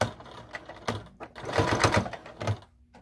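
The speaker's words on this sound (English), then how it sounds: "put these together and go ahead and sew right down the line there" A sewing machine stitching two fleece pieces together along a quarter-inch seam, short bursts of rapid close mechanical whirring and clatter that speed up in the middle, with no talk.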